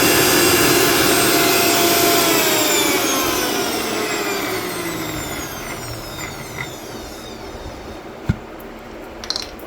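A mixer grinder churning cream into butter whirs loudly and steadily, its motor pitch slowly drifting, then winds down near the end with a few light clicks.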